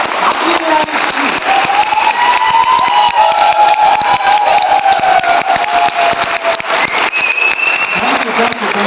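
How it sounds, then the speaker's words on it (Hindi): A crowd at an anniversary celebration applauds and cheers, steady loud clapping filling the room with overlapping shouts and whoops carried on top for the whole stretch. "अभी मैंने ताली बजाने के लिए बोला"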